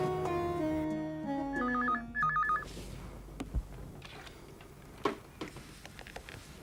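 A telephone rings with a repeating electronic two-tone trill in short bursts over soft background music in a domestic drama scene, followed by quiet room noise and light clicks.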